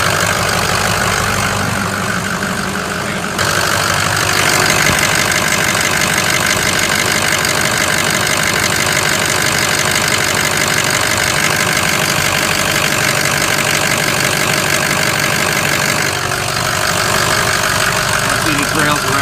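A car engine idles steadily after a cold start, a continuous loud mechanical hum with a faint knock, running throughout with no pauses.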